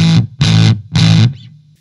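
Electro Harmonix Satisfaction Plus fuzz pushed through a Fender Precision bass, three loud, thick, distorted bursts with heavy low end, the last fading into a brief warbling tail.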